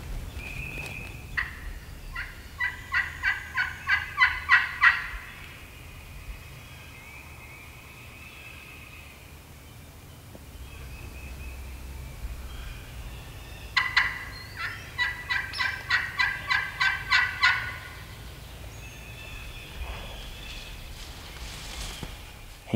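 A wild turkey gobbles twice, each a rapid rattling burst, distant and separated by a long quiet stretch of outdoor ambience on Tennessee public land.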